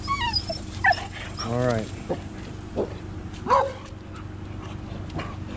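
A boxer puppy whimpers, yips and lets out short barks in an uneven series during a training session amid distractions, close by, while a person talks over it.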